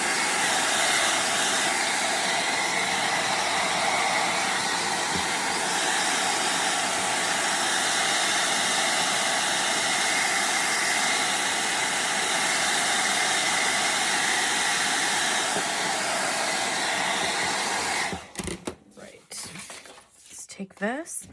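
A dryer blows a loud, steady whooshing stream of air for a long stretch while drying paint on a wooden rabbit craft, then cuts off, leaving brief handling clatter.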